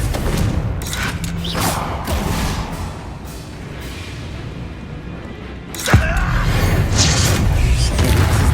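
The Confringo blasting spell going off in Hogwarts Legacy, heard as a dense, rumbling booming blast with a sharp thud partway through, loud and close within ongoing game sound.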